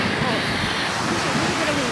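Strong wind roars across an Isla Mujeres beach in Mexico while big waves crash in a dense, continuous wash, loud and steady for two seconds with no break.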